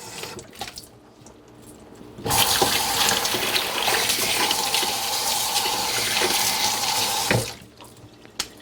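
Kitchen tap runs steadily for about five seconds while ground beef is rinsed, a loud close rushing of water that starts and stops abruptly, with no talking.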